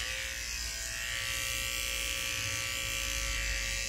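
Electric dog grooming clippers fitted with a 40 blade trim the hair around a dog's paw pads, a steady close-up motor buzz with a constant whining tone throughout.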